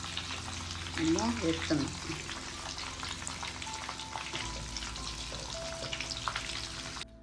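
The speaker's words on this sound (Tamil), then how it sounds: "இப்போ சிக்கன் எல்லாம் பொரித்து எடுத்தாச்சு" Chicken deep-frying in hot oil, a steady bubbling crackle that continues close by while a person speaks briefly early on.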